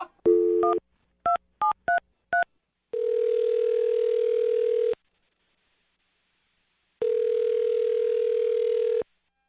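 A telephone keypad is dialed, a quick run of DTMF beeps of different pitches, followed by two long, steady ringback tones separated by silence.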